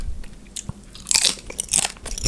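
Thin, spicy peanut chips with strong lime leaf flavor crunch through several close, crisp bites and chews at an irregular rhythm, with no talking.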